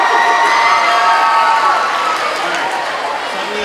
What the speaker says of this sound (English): You're applauding every word.